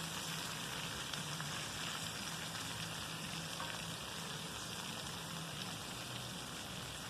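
Two pieces of bacon fry in a pan at an outdoor picnic, giving a continuous, even sizzle and crackle that holds steady for the whole stretch without any talking.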